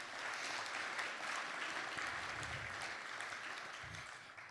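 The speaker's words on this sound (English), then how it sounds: "Yeah, you can clap." An audience at a mission network session applauds a single mother's story, a soft, steady wash of clapping heard from a distance, fairly faint and continuous, with no voices over it.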